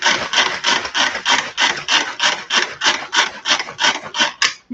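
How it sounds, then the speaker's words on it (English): Eggs whisked briskly in a bowl give about fifteen rapid, evenly spaced scraping strokes, loud and close with no voices. "So I'm just gonna now whisk up the eggs."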